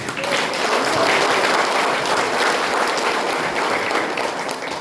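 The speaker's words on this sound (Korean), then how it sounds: "박수 한번 부탁드리겠습니다" A book launch audience at an arboretum gives a warm, steady round of applause for an ecology author, dense clapping from a sizable crowd holding evenly for several seconds.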